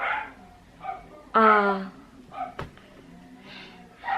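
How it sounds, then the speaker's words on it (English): Dogs bark at home in a few short, close yelps and woofs, scattered between bursts of conversation as a person talks over them. "our dogs are barking right now"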